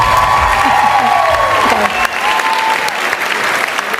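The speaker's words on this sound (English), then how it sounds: "Give them a round of applause." Loud applause and cheering from a beauty pageant crowd at the Miss Universe Australia coronation night, a dense roar of clapping with whoops rising over it, sustained for the full few seconds.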